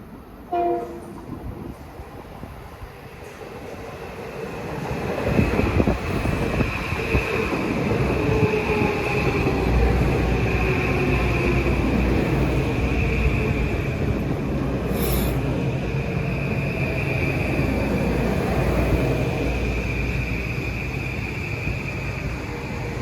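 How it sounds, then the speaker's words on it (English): A Metro-North Kawasaki M8 commuter train runs from Stamford to Grand Central past Mamaroneck at rush hour, opening with a brief horn and then a long, loud, steady roar of wheels and motors as the cars rush by. "here comes 1369 from Stanford to Grand Central at 3:55"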